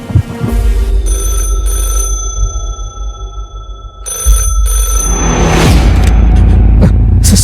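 A telephone bell rings loudly in repeated bursts, with brief gaps between rings and a low rumbling hum underneath.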